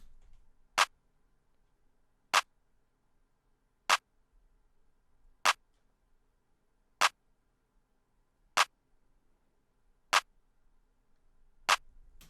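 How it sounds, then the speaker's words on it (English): A Mr. Rage clap sample with Fruity Blood overdrive, programmed in FL Studio for a trap-style beat, strikes eight crisp, evenly spaced times against silence. "Next is the Mr. Rage clap, which then sounds like this."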